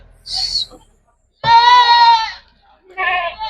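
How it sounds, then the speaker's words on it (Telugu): Goats bleat loudly and close by at a livestock market in Mylavaram, Andhra Pradesh, three separate wavering calls with short silences between them. "అటు పిల్లలు మేకలు ఉన్నాయి"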